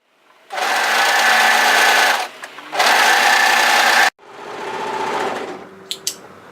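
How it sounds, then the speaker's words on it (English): Overlocker stitching a striped cardigan seam, running loud and steady in three bursts with brief pauses between, the last run softer and ending in a couple of sharp clicks. "when we're sewing a stripe, make sure when you sew it, you're sewing it nice and evenly"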